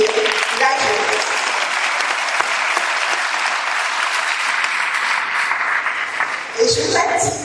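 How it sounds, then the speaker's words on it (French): A large audience at a Soka Gakkai International gathering applauds young members, dense sustained clapping filling the hall for several seconds, with a voice briefly cutting in at the end. "Je vous prie d'applaudir la jeunesse"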